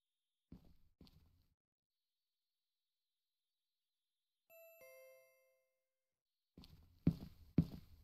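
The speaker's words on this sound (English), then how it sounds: "That's cool, you can change the doorbell." A doorbell in the video game Pet Shop Simulator rings once, a clear two-tone chime in a quiet room. Soft footstep thuds come before it, and heavier thumps follow.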